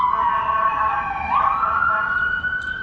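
Emergency vehicle sirens wail loudly outdoors at a morning rally in Waterbury, the pitch sliding up as they pass steadily nearby, with no talk over them.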